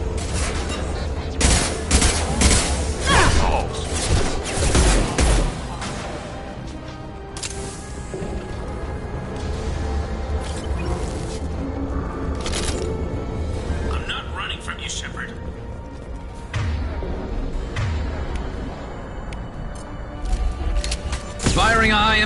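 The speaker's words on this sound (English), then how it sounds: "Firing a high-impact shot." Sustained gunfire in Mass Effect 2, with dense volleys of loud shots and bursts through most of the stretch, intermittent heavy cracks, and in-game voice lines heard between the firing.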